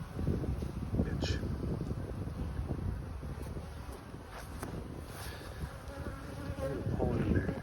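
Worker honeybees buzz around a beehive frame during a hive inspection, a close, steady swarming drone with occasional louder passes near the microphone and some wind rumble underneath.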